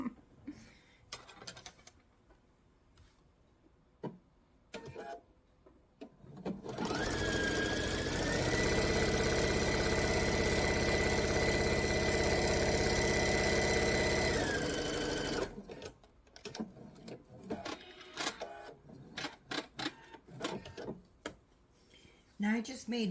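A sewing machine stitches a quarter-inch seam down the raw edge of a quilt block, its motor running loud and steady for about eight seconds, with quieter handling sounds before and after.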